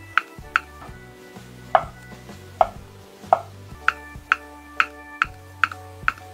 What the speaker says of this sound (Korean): 이렇게 얇게 썰어줍니다